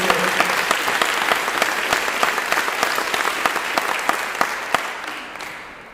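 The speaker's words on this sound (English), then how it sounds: "So again, a big round of applause for these partners." A steady wash of applause from a crowd at a school district superintendent's State of the District address, dense clapping that fades slightly toward the end.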